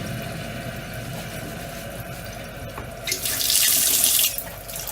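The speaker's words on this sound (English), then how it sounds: "Oh, state of this tap now." Water runs from a tap into a kitchen sink, a steady close hiss that grows louder and brighter as the flow increases near the end.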